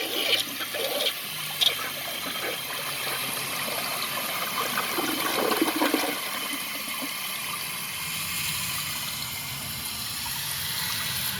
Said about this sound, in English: let's just see how it flushes